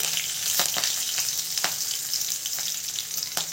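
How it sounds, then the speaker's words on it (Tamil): Curry leaves fry in hot oil in a kadai. There is a steady, fairly close sizzle with a few sharp crackles and pops scattered through it, and no talking. "கொஞ்சமாக கருவேப்பிலை போட்டுக்கலாம்."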